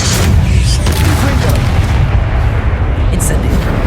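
An Expelliarmus spell in the video game Hogwarts Legacy lands amid loud, continuous booming impacts, a thick low rumble with sharp bursts punching through the fight noise.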